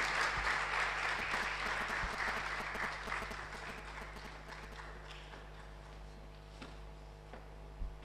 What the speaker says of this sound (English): Please welcome her with a resounding round of applause